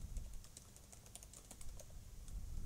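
Keys clatter on a computer keyboard in quick, uneven bursts of typing, close and fairly soft, with no voices over them.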